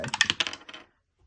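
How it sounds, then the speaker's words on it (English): A six-sided die clattering as it is rolled, a quick burst of bright rattling bounces that fades out within a second, close and clear with no talk. "let's do a roll the dice"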